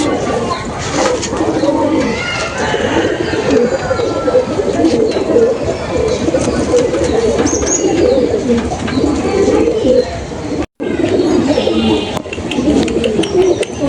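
Madras pigeons coo in steady, overlapping rumbling calls throughout, with a brief dropout near the end, while someone talks nearby.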